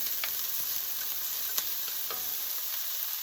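Onions sautéing in a frying pan, a soft continuous sizzle with occasional faint clicks and stirring taps, fairly quiet and alone.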